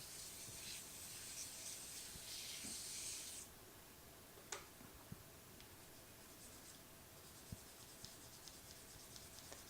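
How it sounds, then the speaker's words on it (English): Faint, dry rasping of fine sandpaper rubbed back and forth with the grain on a wooden earring box lid, a brief louder stretch at first, then quieter scratching with occasional small taps. "Now what I'm doing here is I'm sanding back and forth with the grain."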